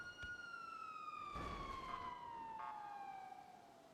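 A siren wails outside, a single long tone sliding slowly downward in pitch, moderately distant and faint, heard alone.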